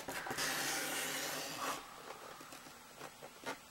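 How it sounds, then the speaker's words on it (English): A paper trimmer blade slides along a sheet of cardstock for a long, close rasping cut, followed by a few softer scrapes and taps. "I'm going to cut from the 3/4 inch mark on my paper trimmer here on the side"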